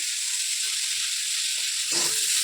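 Steady hiss of chopped onions frying in hot oil, with a brief stirring scrape near the end.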